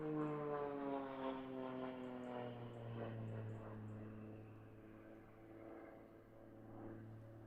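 A propeller-driven aerobatic airplane in flight at an aerobatics championship, its engine droning steadily and loudly throughout with strong harmonic tone and slight pitch shifts, no talking.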